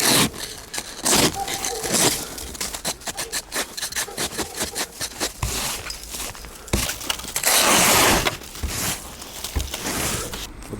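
Rhythmic rasping scrapes of snow being cleared off an old VAZ Zhiguli in minus-eight-degree weather, close and continuous with short pauses between strokes.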